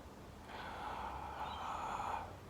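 Slow, steady human breath drawn through the mouth during a relaxed sensory mindfulness exercise, a soft airy rush lasting about two seconds, close and quiet, with no talking.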